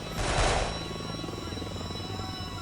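Helicopter in the game Delta Force: Black Hawk Down, a steady rotor and engine drone swerving to dodge an RPG, with a brief louder burst near the start under gameplay noise.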